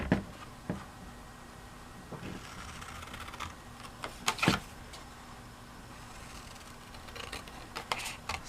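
Scissors cut out a piece of cardstock in a series of quiet, crisp snips and clicks, spaced irregularly over a low background hiss.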